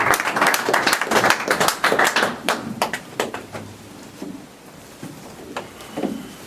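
Church congregation applauding together, bursts of many hands clapping in an uneven rhythm, loud at first and then thinning into scattered claps that fade and return toward the end.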